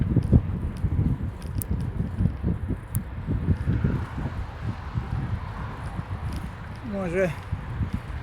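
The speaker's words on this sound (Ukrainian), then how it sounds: "Зараз вітер в обличчя" Wind blows head-on into the microphone in heavy, gusty rumbles throughout, with a brief voice near the end.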